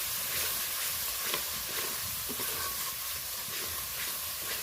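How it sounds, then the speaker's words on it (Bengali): Masala spices frying in oil in a pan hiss and sizzle steadily at low level, with soft stirring scrapes now and then and no talk. "মশলাটা দেখো ভালো করে কষিয়ে নিলাম"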